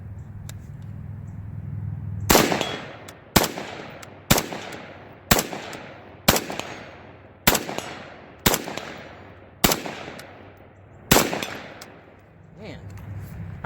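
Marcolmar CETME L rifle with a bayonet attached, firing about ten single loud shots spaced roughly a second apart, each cracking sharply and then ringing out outdoors.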